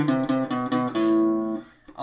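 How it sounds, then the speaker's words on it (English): Electric guitar lick from a punk song, played just before the bridge: a few quick plucked notes, then one note held ringing for a moment before fading out. "he does this little lick. It'll sound like this."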